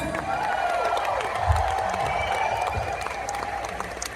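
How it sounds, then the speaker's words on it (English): An audience applauds a band at a performance event, sustained steady clapping with scattered cheers and whoops, moderately loud and continuous for the whole stretch. "Please give a huge round of applause to you guys."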